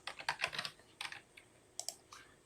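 Someone types on a computer keyboard while entering a command in Mathematica: quick, close bursts of clattering keystrokes, then a short pause and a few more scattered taps.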